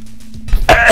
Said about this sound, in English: I'm sorry about all the coughing.